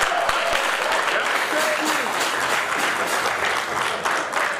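A convention crowd at the SOBA UK 2018 annual residential convention in Burton-on-Trent applauds steadily, a dense, loud wash of clapping that fills the whole stretch, with a few cheers and voices mixed in.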